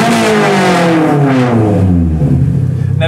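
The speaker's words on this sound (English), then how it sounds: "let me just touch the throttle just a little bit" A Mazda 121 with a K24 engine and individual throttle bodies blips sharply, pitch climbing quickly then falling back as the revs settle, loud and close.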